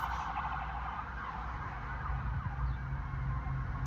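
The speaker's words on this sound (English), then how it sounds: "These people being hauled off to the hospital in this ambulance" An ambulance siren wails continuously over the drone of road traffic, sounding somewhat distant and steady throughout, with no talk over it.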